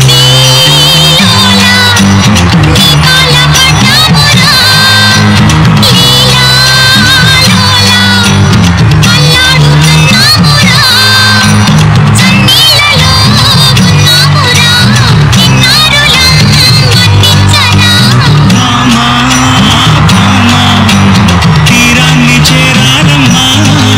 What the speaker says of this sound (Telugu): ఒకసారి గట్టిగా చప్పట్లు కొట్టేయండి